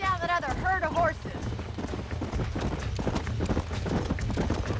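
A herd of horses gallops in Red Dead Redemption, a steady, busy drum of hooves running through the whole clip under a brief high animal call near the start.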